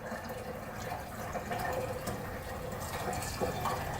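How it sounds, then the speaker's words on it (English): Hot water poured from a bucket into a carpet cleaning machine's tank makes a steady gurgling, splashing fill sound, close and continuous, with a few small knocks. "now we'll take our bucket of hot water and fill this up until we can see the water starting to come"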